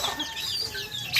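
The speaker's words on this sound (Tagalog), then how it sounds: "So yun yung mga manok." Chickens cluck and murmur nearby in short overlapping calls, with a sharper squawk near the end.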